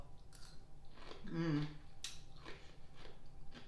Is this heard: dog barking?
no